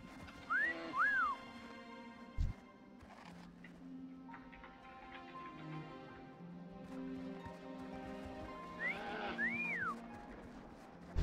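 A person whistles two short rising-and-falling phrases, one near the start and one near the end, over soft background music from World of Warcraft gameplay.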